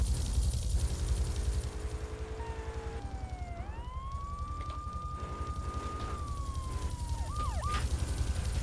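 Police car siren in the video game GTA III, wailing tones that rise and sweep up and down over a steady rumbling engine and traffic noise, ending in quick yelping warbles, with no talking.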